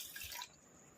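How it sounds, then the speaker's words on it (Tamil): Water from a tumbler poured into a pot of rice, a short splashing burst that stops halfway through, then quiet room tone. "அதனால் நான் 1 டம்ளர் அளவுக்கு இதில் தண்ணி சேர்த்துக்கிறேன்"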